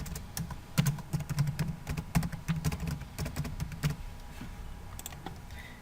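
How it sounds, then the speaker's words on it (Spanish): Password being typed on a computer keyboard, a quick run of close, crisp key clicks in uneven bursts that slow and thin out toward the end. "Ingreso la contraseña."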